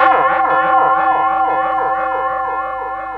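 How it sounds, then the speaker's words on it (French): A bright, bell-like tone run through a feedback delay effect sustains while quick repeating echoes shimmer and pulse through it, a continuous layered wash with no talking. "Donc ça c'est le son de cloche qui est passé."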